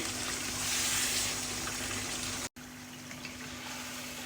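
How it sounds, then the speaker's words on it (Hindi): Green chillies fry lightly in a pan with a soft, steady sizzle and bubbling hiss, briefly cut off for an instant midway. "सब्ज़ मिर्चें मैंने इसमें शामिल कर दी हैं और इसको हम जस्ट 3 सेकंड के लिए लाइट सा फ्राई करेंगे"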